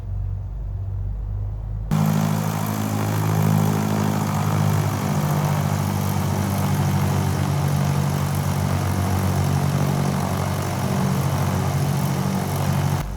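A Piper PA-44 Seminole twin-engine prop plane taxiing in Microsoft Flight Simulator 2020, with a steady, loud droning engine hum and propeller buzz that kicks in after a quiet opening and holds constant throughout.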